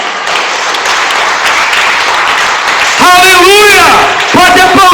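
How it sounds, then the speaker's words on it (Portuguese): A church congregation claps loudly and continuously for about three seconds in a dense burst of applause before a preacher speaks over the fading sound. "Você pode dar um aplauso ao Senhor Jesus"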